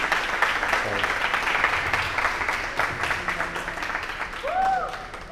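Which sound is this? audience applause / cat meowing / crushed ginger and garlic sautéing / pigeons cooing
audience applause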